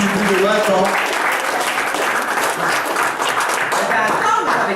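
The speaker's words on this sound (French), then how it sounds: "On peut l'applaudir." Wedding guests at an evening reception applaud in a dense, continuous burst of clapping, with voices talking over it throughout.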